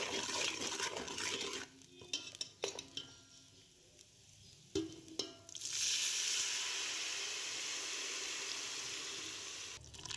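Beef trotters are stirred into a pan of spices and fried, with scraping, clattering utensil strokes followed by a soft, steady sizzle, all fairly quiet.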